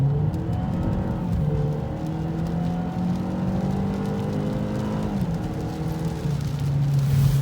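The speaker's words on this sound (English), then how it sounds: "So I'll try to straighten the wheel out here and do a full throttle acceleration." A 2015 Ford Fusion with a 1.5L EcoBoost engine under full throttle in sport mode. The engine note climbs steadily through the rev range, dips briefly at a gear shift, then rises again, heard from inside the cabin.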